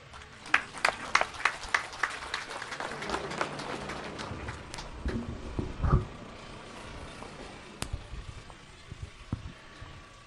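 An outdoor crowd at a municipal housing handover ceremony in Tarija, Bolivia, claps in a loose, uneven burst that thins out, with scattered louder claps and background bustle.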